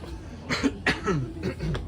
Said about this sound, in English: I need to clear my throat and I don't want to do it on camera.